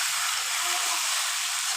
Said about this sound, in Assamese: এইটো এনেদৰে তেল মছলাখিনি ভাজি আছে